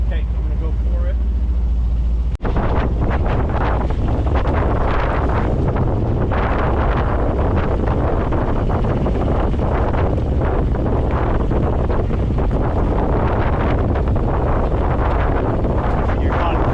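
Strong wind roars over the microphone aboard a sailboat heading into the wind, a loud, continuous buffeting rush that fills the scene, with a sharp knock early on and voices partly buried under it.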